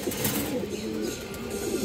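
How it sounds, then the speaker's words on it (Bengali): A Muslodom pigeon, an old-line breed, coos softly in low, rolling murmurs, faint and close, over a quiet background. "এই কবুতরটা একবার পুরনো ব্রান্ডের মুসলদম কবুতর।"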